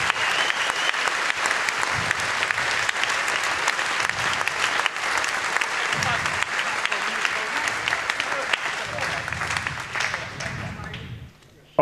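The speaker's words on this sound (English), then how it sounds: "A big applause for them." Sustained, loud applause from a large audience at the SHA2017 hacker camp closing ceremony, dense clapping with scattered cheers running steadily for about eleven seconds before cutting off abruptly.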